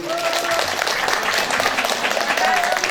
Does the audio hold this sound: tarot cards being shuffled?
no